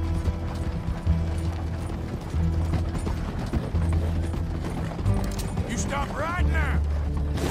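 A horse-drawn coach galloping in Red Dead Redemption II, steady clip-clop of hooves and rattling wheels rolling on beneath a low rumble, with a horse whinny briefly rising near the end.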